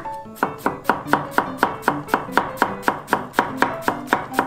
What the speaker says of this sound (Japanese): この包丁で玉ねぎ初めて切ったけど